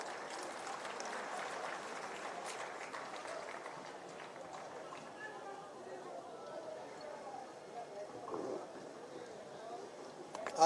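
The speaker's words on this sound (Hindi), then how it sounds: "आप सबकी जोरदार तालियों के साथ" Audience applause at a public ceremony in Lucknow as Nitin Gadkari is invited to speak, a steady crowd clapping held at moderate level throughout, with voices and chatter mixed in.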